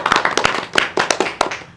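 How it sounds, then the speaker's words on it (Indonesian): Hands clap repeatedly at a podcast for the Putra Putri PKKP PNJ 2022 pageant, roughly a dozen sharp, close claps in a loose, uneven rhythm. "Tuh, tepuk tangan dong."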